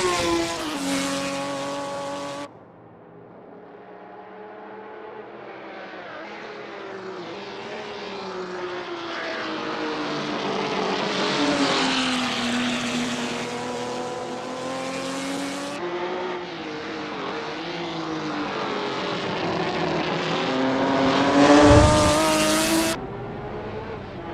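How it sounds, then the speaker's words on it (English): A Ferrari 275 GTB Competizione race car in a GTC60 sim racing practice session at Goodwood, its engine note climbing and falling through gears in a long, loud drone with shifts and a brief tire scrub near the end. "Vical Hyper is getting to grips with the GTC60 Ferrari 275 GTB Competizione in this practice session."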